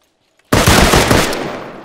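Sudden loud burst of rapid automatic gunfire in the game Arma 3, a close, dense string of shots that starts abruptly out of near silence and rings out for over a second.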